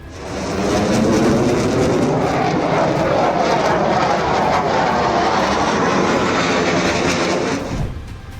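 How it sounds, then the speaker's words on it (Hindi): An F-15E Strike Eagle fighter jet makes a loud, sustained engine roar that swells in, holds steady and strong, then fades away at the end, with no voices. "ईरान ने मार गिराया अमेरिका का F-15E स्ट्राइक ईगल लड़ाकू विमान"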